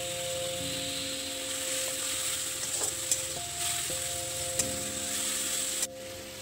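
Whisked sour yogurt stirred into frying masala in a pan for a rohu fish curry, a continuous sizzle with occasional spoon scrapes and soft knocks, no talking, cutting off abruptly near the end.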